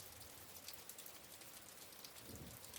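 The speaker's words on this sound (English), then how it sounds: "The rain still falls" Steady soft rain patters against a glass window pane, a continuous gentle hiss with scattered droplet taps, no voices.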